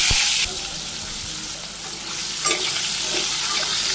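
Potatoes frying in hot oil, a steady broadband sizzle that flares at the start and again partway through, with faint stirring clinks beneath.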